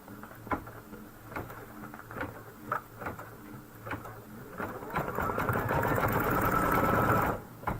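Embroidery sewing machine stitching white thread, a fast steady needle patter with rhythmic mechanical knocks, growing into a louder continuous whir near the end before stopping abruptly.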